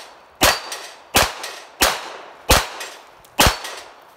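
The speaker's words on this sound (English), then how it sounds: "Now we're going to shoot with our left hand." Pistol fired one-handed with the weak left hand at steel targets: five sharp, loud shots at a steady rhythm, each followed a split second later by a bright metallic ring from the struck plate.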